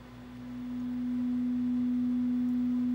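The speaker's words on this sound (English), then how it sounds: "Okay, and that's what that sounds like. Two sine waves identical to each other." Two identical overlapping sine waves play through a monitor as a single steady pure tone that swells in loudness over the first second, then holds smoothly.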